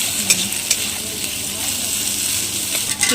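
A hilsa fish head fries in a pan with a close, steady sizzle and hiss, marked by a few soft stirring clicks.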